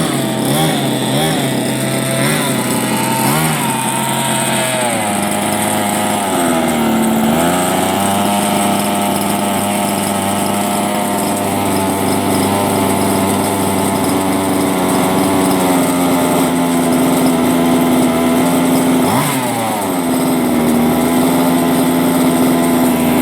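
The gas engine of a King Motors X2 RC car buzzes loudly and continuously as the throttle is worked, its high, raspy whine dipping and climbing between idle and revs throughout, with no speech.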